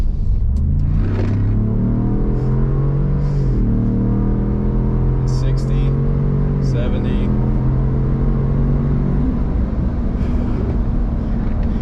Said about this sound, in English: we're gonna let everybody kind of get ahead so we can do a nice running acceleration up the on-ramp